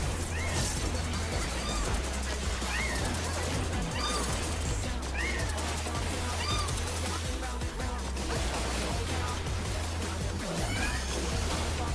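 Repeated cat meows from Final Fantasy XIV rise over a dense, busy mix of raid combat effects and a pulsing low tone, loud and continuous.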